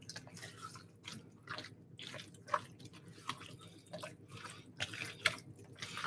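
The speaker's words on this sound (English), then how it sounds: "So I'm just gonna stir that." A spoon stirs food in a pot, making wet squelching and clinking sounds in uneven bursts, close and moderately quiet, with faint background hum.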